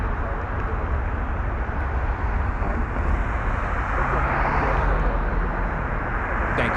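A Southwest Airlines Boeing 737 at Las Vegas Harry Reid International Airport, a broad steady jet engine roar that swells slightly midway, heard from a distance with no talk over it.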